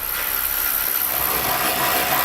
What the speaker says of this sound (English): We're using a 12mm socket for this.